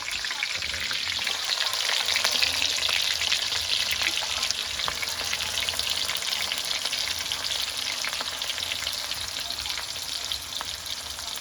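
Onions sizzle in hot oil in a pan for a chicken kosha, a dense steady crackle with soft stirring scrapes running throughout, close and even, with no talk.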